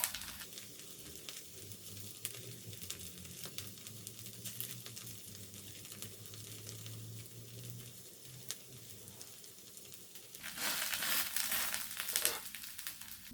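Chopped onion dropped into a hot oiled frying pan over lowered heat, giving a soft steady sizzle and crackle that swells louder and brighter toward the end, with no talking.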